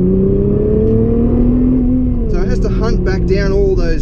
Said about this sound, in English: So I'll floor it now.